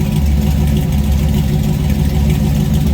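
Stock 5.3-liter LS V8 with a 6-liter cam, swapped into a Chevrolet C10 truck, idling with a steady low, even rumble, close and loud for a few seconds, no talking.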